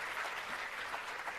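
Audience applause at the launch of 4IR centres of excellence, honouring interpreters from Vembe TVET College: a steady, fairly faint wash of many hands clapping, heard from a distance without voices.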